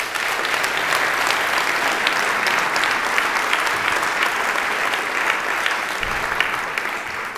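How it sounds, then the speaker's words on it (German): An audience applauds for Mario Wollasch at a business talk in Sofia, a broad, steady roar of many hands clapping that holds loud for over seven seconds before easing slightly at the end. "bitte einen Applaus für Mario Wollasch"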